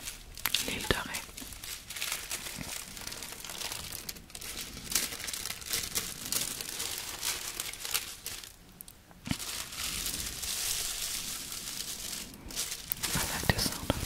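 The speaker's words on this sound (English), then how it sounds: "I like the sound of the wrapping paper." Wrapping paper from a soap shop on the Île de Ré crinkles and rustles close up in a steady, dense stream with brief pauses, soft whispered voice beneath.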